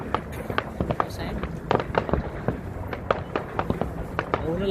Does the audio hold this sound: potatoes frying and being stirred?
no